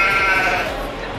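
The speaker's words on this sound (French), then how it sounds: "il y a des chèvres qui sont en train de la brouter" Goats grazing on a planted green roof at a zoo give a loud, close, drawn-out bleat that fills the short moment.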